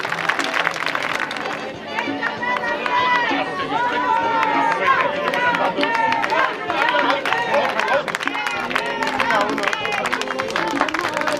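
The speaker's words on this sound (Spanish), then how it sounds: "Un aplauso para las ganadoras." Applause and clapping ring out from a crowd at a women's rowing regatta awards ceremony in A Guía, Vigo, honouring the winning Chapela crew, sustained and busy, with lively chatter and voices mixed throughout.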